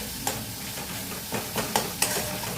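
Masala with added cashew powder is stir-fried in a pan for paneer malai kofta, with a soft constant sizzle and a few light spatula scrapes and taps at irregular intervals.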